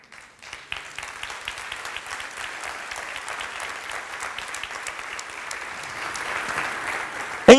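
Church congregation applauding during a Portuguese-language worship service, a steady, dense spread of clapping that builds gradually over several seconds and ends in a louder burst.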